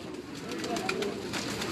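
A pigeon gives soft, low cooing close by amid faint rustling, brief and quiet.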